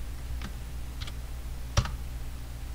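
Keys clicked on a computer keyboard, ending with an Enter press: a few faint, sparse taps followed by one sharper, louder click, close against quiet room noise.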